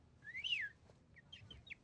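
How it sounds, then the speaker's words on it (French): A high, rising-and-falling whistle sweeps once, fairly close, followed by a few short, faint chirpy whistles over a quiet background, meant as ghosts whistling in a film scene. "Elles sifflent"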